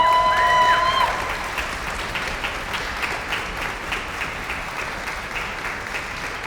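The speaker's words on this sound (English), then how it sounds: "So I know these kids, they want to cheer for Mr. Reyes." An audience at a school spring band concert applauding and cheering for a teacher, a dense, sustained wash of clapping from a large crowd, with a brief whistle or shout at the start.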